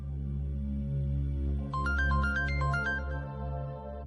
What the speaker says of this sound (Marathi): राहुल्याचा फोन आहे वाटतं.